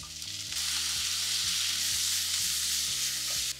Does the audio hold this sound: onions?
yes